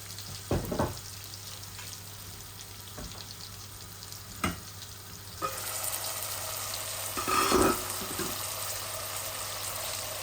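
Potatoes fry in a small amount of oil in a pot, a steady near sizzle punctuated by several knocks and scrapes of stirring that swell louder partway through.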